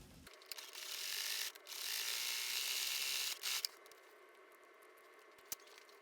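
A sewing machine runs fast stitches along the edges of fabric for a reusable lunch bag, in two steady whirring bursts of a few seconds each, close up with no talking.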